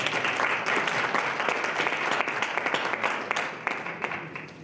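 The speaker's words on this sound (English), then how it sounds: "Can we please give him a round of applause?" An audience applauds a panelist joining the stage at a business opportunity roadshow panel discussion, producing steady, dense clapping that holds for the whole stretch, with scattered sharper claps standing out.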